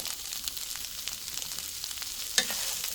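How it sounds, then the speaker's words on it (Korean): Salted cucumber is stir-fried in a pan, making a soft, continuous sizzle with a single brief clatter of the utensil near the end. "이렇게 해서 볶아주세요"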